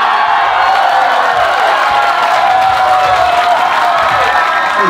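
A crowd applauds and cheers continuously as a rapper is welcomed onto the stage, with whoops rising over steady clapping, loud and sustained throughout.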